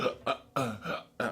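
Jazz brush dragged across a snare drum and stopped at the turn instead of circling, giving a few short, rough swishing bursts with brief gaps, close and fairly quiet.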